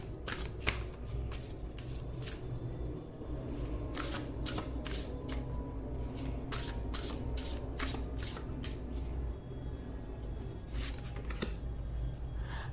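Tarot cards are shuffled and drawn by hand in a pick-a-card reading, giving a steady riffling shuffle with repeated sharp card slaps throughout, close and clear with no talking.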